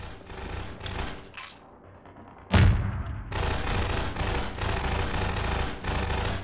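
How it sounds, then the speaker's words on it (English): A sudden explosion outside a window in the shooter Half-Life 2, a single loud blast with a sharp onset that gives way to a steady rumbling wash of ambient noise, with no talking. "If you look outside this window, there will be a completely random explosion"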